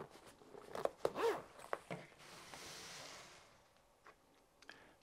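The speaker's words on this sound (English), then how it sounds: "I will now open the zipper to show you the items inside the case." A zipper is drawn open on a microphone carrying case for a Comica wireless UHF lavalier kit, a few sharp rasping pulls near the start followed by a softer, longer slide, close and clear with no talk.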